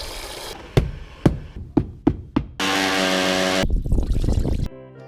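While a Nissan Bluebird's sandy carpet is being deep cleaned, several sharp tapping knocks sound first. A brief stream of clean water is then poured, followed by scrubbing and clattering noises.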